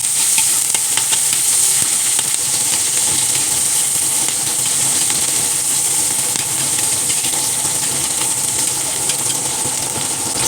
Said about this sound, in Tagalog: Igisa na natin ang mga ricado. Ayan na po ang sibuyas.